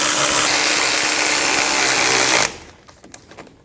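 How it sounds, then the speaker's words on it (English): A power ratchet or impact tool snugs down bolts on a 2012-2022 Volkswagen Passat front hub during a wheel bearing replacement, giving a loud, close, continuous buzzing whir for about two seconds before cutting off to faint clicks. "Snug the bolts down."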